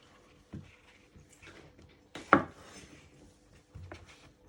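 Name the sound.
knife chopping mushrooms into quarters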